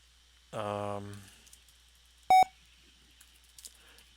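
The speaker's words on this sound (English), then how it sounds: "stop beeping." A short electronic tone sounds first, then two sharp, loud beeps in quick succession from a machine, with quiet room noise between them.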